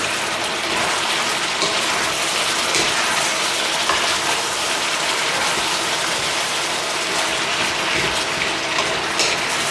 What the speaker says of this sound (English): We'll give this a good stir fry for about 3 minutes.